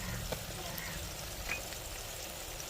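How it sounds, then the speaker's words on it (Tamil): Onion, tomato and green chilli fry with masala powders for a fish curry, a faint steady sizzle running evenly with a couple of small stirring ticks. "வெங்காயம் தக்காளி பச்சை மிளகா எல்லாமே வதங்கி வந்துருச்சு நம்ம மசாலா சேர்த்துக்கிறோங்க"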